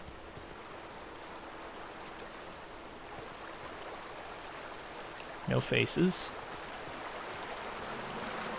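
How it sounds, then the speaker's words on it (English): Steady rushing of a running stream in The Outer Worlds fills the scene as a constant wash of water noise, briefly interrupted midway by a short spoken phrase. "I hear running water."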